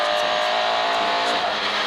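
A Peugeot race car fitted with a small Vauxhall engine, racing on slicks at Brands Hatch, holds a steady loud engine drone close by, with a constant high whine throughout and no talk.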